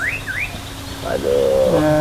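A pet bird chirps up close, rising whistled tweets followed by a sustained warbling note, loud against a faint background murmur.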